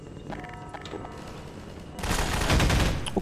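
Gunfire in the video game Half-Life 2 Episode 2 erupts as a dense, loud barrage of rapid shots, swelling sharply after a quieter stretch of game noise, with no talking.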